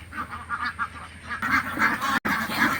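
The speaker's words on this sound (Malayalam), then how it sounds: "അടിപൊളി നാടൻ കുട്ടനാടൻ താറാവ്" Native Kuttanad ducks, drakes among them, at a riverside ferry landing in Kerala, honking and quacking in a steady, busy chorus of overlapping calls from a flock nearby.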